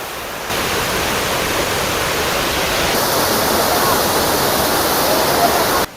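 A waterfall in Palakkad roars as a loud, unbroken rush of water, dense and constant from start to finish.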